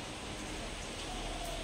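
A passing rain shower falls steadily on trees and the ground around their bases, a continuous even hiss of broadband noise with no distinct drops, fairly quiet and unbroken throughout.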